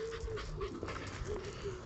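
Two dogs on an outdoor walk pant steadily and quickly, the breathy rhythm close and moderately loud against light background noise.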